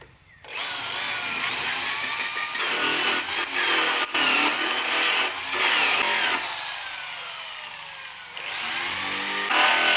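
A power drill whines continuously through bamboo, its pitch rising and falling as it bites and eases, with a short pause partway through.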